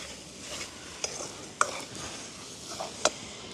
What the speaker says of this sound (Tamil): இது வந்து அந்த எண்ணெயிலேயே நல்லா அப்படியே வதங்கி பிரண்டு கொண்டு இருக்கணும்